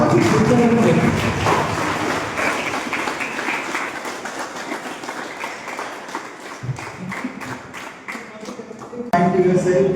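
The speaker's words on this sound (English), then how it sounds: "Give him one more round of applause." An audience at an inspiring talk at a conclave applauds with a dense, loud wash of clapping that eases slightly in the middle, then swells again at the end, with a voice partly mixed in.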